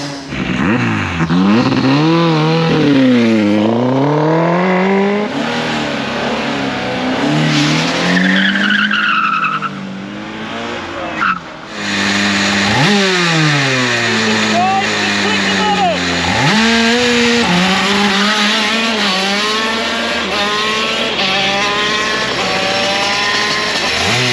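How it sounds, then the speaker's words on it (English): Autocross race cars launch one after another with loud engine revs rising and falling and repeated tire squeals, close and powerful, with a brief drop in the middle. "Those are some pretty cool launches."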